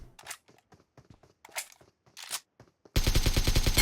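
Fortnite gunfire, a fast burst of automatic shots hammering loudly near the end after several sharp scattered game sounds and footsteps.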